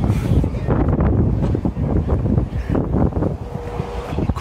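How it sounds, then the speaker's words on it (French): Strong gusts buffet the microphone with loud, continuous rumbling wind noise, roaring and fluctuating throughout. "il y a du vent, c'est infernal"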